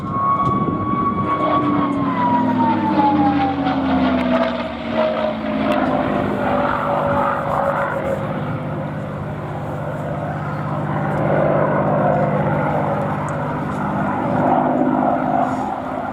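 A P-51D Mustang with a Rolls-Royce engine flies a display at an air festival, its propeller drone loud and steady, the engine note sliding downward as it passes, then holding a sustained roar with gentle swells.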